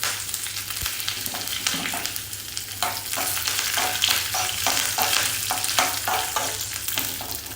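A whole dried red chili and curry leaves hit hot oil for a South Indian coconut chutney tempering, with the flame off. The crackling sizzle is close and continuous, with stirring scrapes and pops and no voice.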